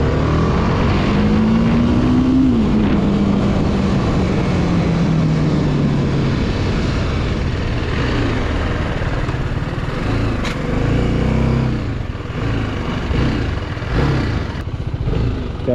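Motorcycle engine idling steadily close by after a roadside breakdown repair near the Statue of Unity, a loud continuous drone with a brief rising rev early on and no talking.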